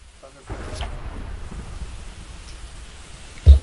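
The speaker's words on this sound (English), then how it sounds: "Thunder." Rain and a thunder rumble in a video game: a steady wash of rain hiss runs throughout, with a low rolling boom building near the end, moderately loud and without talk.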